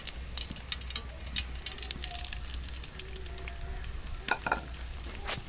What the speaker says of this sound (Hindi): अब हमने इसकी बुनाई करनी है घी के अंदर।